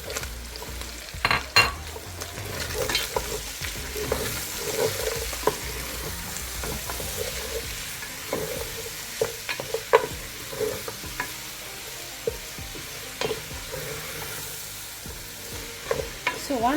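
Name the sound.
onion frying in hot oil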